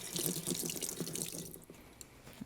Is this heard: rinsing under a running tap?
yes